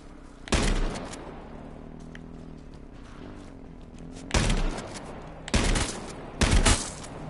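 Gunfire in the battle-royale game H1Z1, four separate bursts of shots, one early and three clustered near the end, loud and sharp against a quiet background hum.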